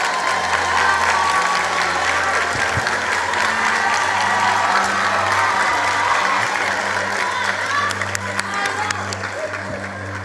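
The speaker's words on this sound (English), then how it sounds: "A round of applause for KwaZulu Natal." Sustained audience applause in a hall at a 2023 matric results announcement, dense and steady for the whole stretch with a few sharper claps near the end, over a low background hum.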